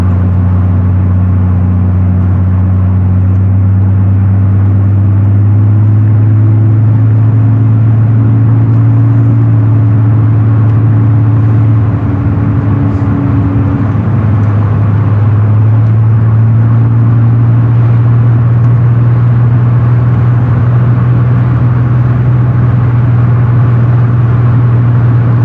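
A 1987 Mercedes-Benz 300E W124 sedan cruising at around 55 mph, its engine a steady low drone with road rumble and a brief shift in pitch midway, heard from inside the cabin with no talk.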